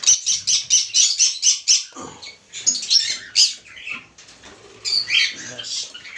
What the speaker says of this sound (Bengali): পাখি আমাদের হেলদি কেমন, সব থেকে ভালো সুন্দর পাখি।